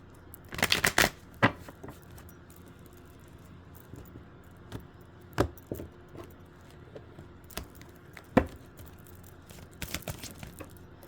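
A deck of tarot cards being shuffled close up, with quick riffling bursts at the start and then scattered soft card snaps and taps spread across a quiet room.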